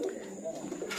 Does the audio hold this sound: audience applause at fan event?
no